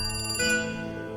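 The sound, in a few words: telephone ringing in the video game The Cat Lady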